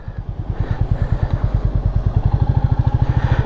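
A Royal Enfield Meteor 350 single-cylinder motorcycle thumps steadily and loudly up close, a rapid even pulse of exhaust beats that quickens slightly as it rides, with no talk over it.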